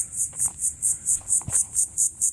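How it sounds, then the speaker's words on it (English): Loud insects buzz from a tree in a fast regular pulsing chirr, about four pulses a second, sustained and close, with faint low background rustle. "Listen to those bugs. Really loud bugs there."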